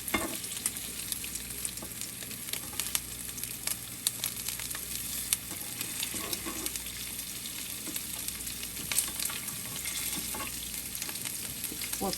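Meatballs browning in a frying pan, turned with tongs: a steady close sizzle with scattered clicks and scrapes of the tongs throughout, no talk.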